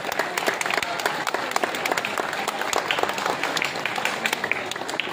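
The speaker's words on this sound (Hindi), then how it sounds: "ताली हो जाए।" Steady applause from an audience at a prize-distribution ceremony as a student is called up to collect an award, dense and continuous throughout with no voices over it.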